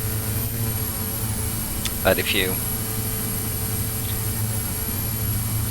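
An aircraft engine in a flight simulator game drones as a constant, loud hum with a high whine layered over it, continuing under a brief burst of talk.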